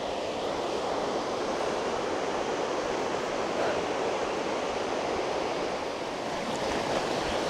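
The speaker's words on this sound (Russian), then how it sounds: "Спустился к самой реке." A mountain river rushes through the taiga of Khamar-Daban, a steady broadband roar of flowing water heard close and continuous throughout, with no voices.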